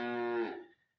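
A single cow lets out a long, loud moo close by, harmonic and steady before fading away in under a second, with no other sound around it.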